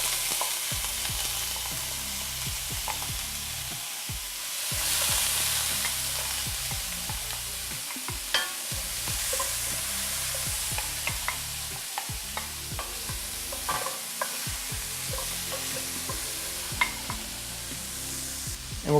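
Cauliflower rice sizzles steadily in a hot frying pan while a utensil stirs and scrapes it, with frequent sharp clicks and taps over the constant frying hiss.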